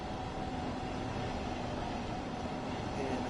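A train sits at a station in a train simulator game set on the Meißen branch near Dresden, giving off a steady low rumble and hum with a faint hiss above it, continuous and even throughout.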